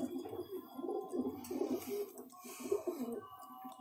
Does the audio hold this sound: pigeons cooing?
yes